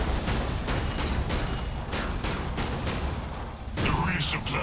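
Semi-automatic rifle fire in the Killing Floor 2 game, an M14, cracks out in a steady series of roughly evenly spaced shots, loud and close, over a busy game background.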